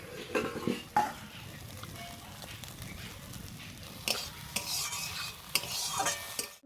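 Egg filling for potol dolma is stirred in a pan, with a spoon scraping and clinking against the metal over a soft, constant sizzle, close up and continuous.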